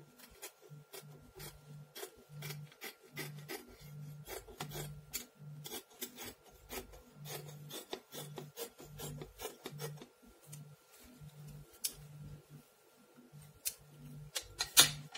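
Scissors cut through jacket fabric to form the front pieces, a steady run of close, rhythmic rasping snips that grows a little louder near the end.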